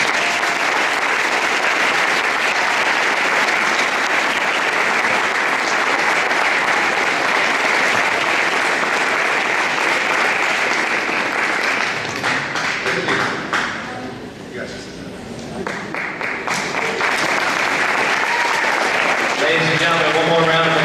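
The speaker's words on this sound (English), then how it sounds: "one more round of applause for all of our athletes" A crowd at a fall sports awards ceremony claps for athletes. The dense applause runs loud and steady, thins briefly midway, then picks back up, with voices mixed in.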